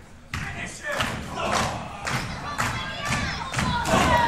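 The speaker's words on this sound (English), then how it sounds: "Look at these two exchange blows." Wrestlers in a main-event slugfest trade blows in the ring, a run of heavy thuds landing roughly every half second over a steady roaring crowd, with commentary voices layered on top.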